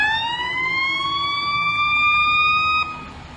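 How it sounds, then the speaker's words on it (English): A loud fire truck siren wails in a long, slowly rising tone close by at a Santa Claus parade, then cuts off abruptly near the end. "I'll be hearing these sirens in my sleep"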